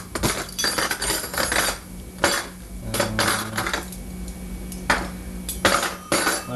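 Cutlery and dishes clink repeatedly at close range while a spoon is pulled out to set beside a cup of noodles on a plate, sharp metallic rattles coming in bursts.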